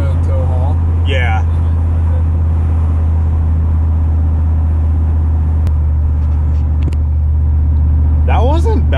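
A Silverado pickup with a cammed 5.3 LS V8 and a BTR cam rumbles loudly and steadily close by, with a low, constant drone throughout. People talk briefly over it near the start and end.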